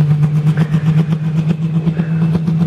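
A Pro Stock pulling tractor engine held at high revs before launch at a tractor pull, a loud, close, steady droning hum with a fast pulsing rhythm.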